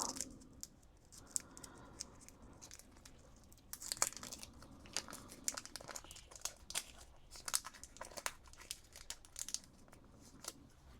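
Foil trading-card packs being torn open by hand, with quiet, close crinkling and crackling in irregular bursts and brief sharper rips.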